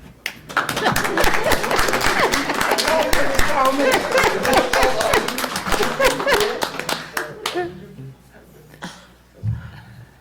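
Clapping from the audience at a city council meeting, sharp individual claps close by blending into a lively round that swells, then thins out and fades, with voices and chatter mixed in.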